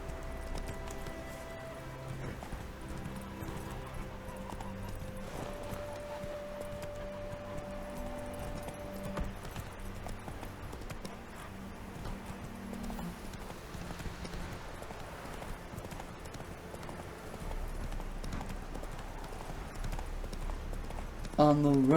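Roach, a horse in the video game The Witcher 3, trots along with steady, rhythmic clip-clopping hooves over a low game soundscape, while someone talks throughout.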